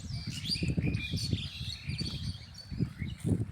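Small birds chirp and call in a quiet rural Bengal countryside in winter, with bright twittering notes scattered over a low rumbling background, fairly close and continuous.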